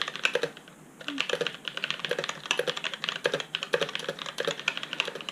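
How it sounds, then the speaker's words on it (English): Rapid, steady typing on an Exibel GKX-M mechanical keyboard, close and crisp, with dense overlapping key clacks and no talk. "So yeah, it's a mechanical keyboard, not expensive at all."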